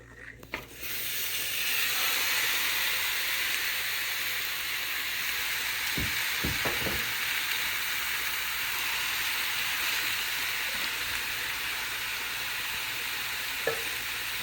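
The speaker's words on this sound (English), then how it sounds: "So I'll be pouring my meat in the hot frying pan" Chicken for Jamaican stew sizzles steadily in a hot frying pan, a continuous crackling hiss after an initial drop, with a few soft utensil knocks partway through.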